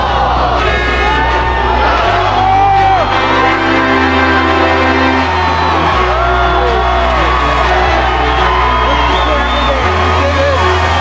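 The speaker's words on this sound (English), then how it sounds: "the crowds have finally really picked up. They're getting rowdier, they're climbing climbing on top of bus stops and on top of buildings" A rowdy football crowd packs the street, cheering, whooping and shouting loudly and continuously, with a steady roaring mass of voices under a prominent droning horn-like tone that shifts pitch.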